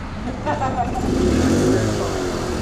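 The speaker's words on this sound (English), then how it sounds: "What is that, a Hayabusa?" A Suzuki Hayabusa motorcycle engine revs nearby on a highway at night, a steady, loud mid-pitched drone that swells slightly, with voices talking over it.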